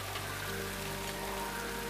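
Heavy rain pouring down steadily, a dense, unbroken wash of noise with a low hum beneath it and no voices.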